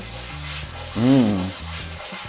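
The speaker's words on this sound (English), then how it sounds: "So my scallions go in. I wanna saute it again." Gnocchi and scallions sauté in a hot pan with a soft, steady sizzle and light stirring, while a faint tonal hum swells briefly in the middle.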